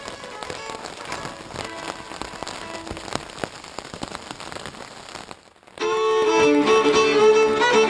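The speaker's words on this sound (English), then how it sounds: "Been raining all morning." Steady rain patters on a tent close by, a dense even hiss with scattered drops, before a brief lull and a sudden louder tonal sound.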